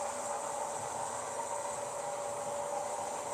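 A steady, hissing mechanical whir with a constant hum runs evenly throughout, from a Baltimore and Ohio HO-scale model train with DCC sound running at a constant speed on a Märklin layout.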